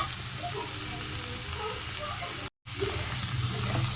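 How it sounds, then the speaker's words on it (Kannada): Tomato masala sizzling and frying in a pan, a steady soft hiss at moderate distance with a brief dropout midway, no voices. "ಇದು ಫ್ರೈ ಆಗ್ತಾ ಇರಲಿ"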